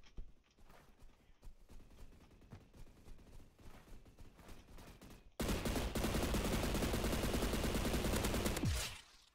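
Scattered distant gunshots in the Roblox game Energy Assault give way to a loud, sustained burst of rapid AK rifle fire that runs for several seconds before cutting off.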